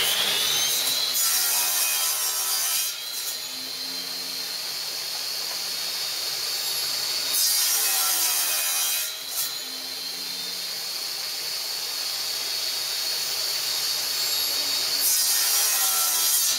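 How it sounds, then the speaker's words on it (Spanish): A saw cuts a wooden ring for segmented turning, a steady, loud, hissing rasp that runs continuously with a few brief surges in intensity. "Voy a cortar un anillo para que veáis más o menos."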